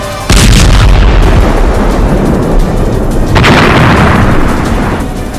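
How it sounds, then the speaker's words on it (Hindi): A HIMARS rocket strike blasts a Russian TOS-1A rocket system: a loud, close explosion bursts in at the start, a second heavy boom rolls in past three seconds, and rumbling debris noise continues throughout. "हिमार्स रॉकेट जोरदार धमाके के साथ उसे तबाह कर डालता है।"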